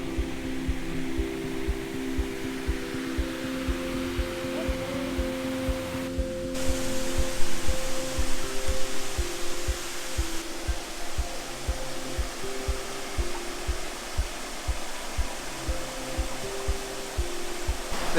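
Waterfall at Arbirlot in Scotland roaring as a steady, dense rush of falling water, continuous and fairly close, with no talking over it.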